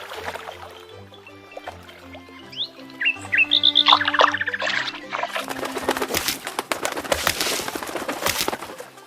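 Several bright, high bird chirps and tweets ring out over a low musical background, followed by a busier rattling, splashing texture.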